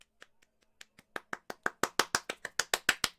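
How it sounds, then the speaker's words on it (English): A slow clap builds up: a few sparse, faint claps grow into a steady, quickening rhythm of loud, crisp hand claps that grows fuller toward the end, with no voices. "we get that epic movie golf clap, you know, or the slow clap"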